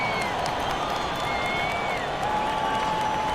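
Arena crowd at an NBA game between the Sacramento Kings and Denver Nuggets applauding and cheering steadily during a timeout, a dense continuous roar of clapping and voices heard from a distance.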